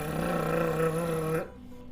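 A human voice imitates snoring as practice for a rolled tongue trill, making a buzzy, droning rasp that holds steady and then cuts off abruptly into near silence.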